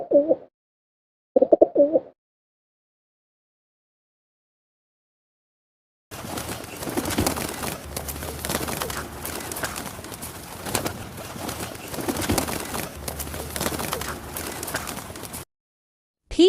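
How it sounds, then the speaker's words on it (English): Two short cooing calls of a pigeon start things off, followed after a pause by a long stretch of soft fluttering and rustling, like wings flapping, then another brief coo at the very end. "Pigeon."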